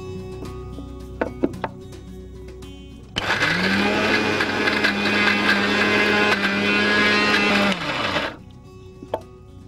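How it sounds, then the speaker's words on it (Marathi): A kitchen mixer grinder whirs loudly for about five steady seconds, grinding boiled sprouted pulses without water, preceded and followed by a few light clinks of a spoon and jar. "तोपर्यंत आपण कडधान्य मिक्सरवर काढून घेऊया."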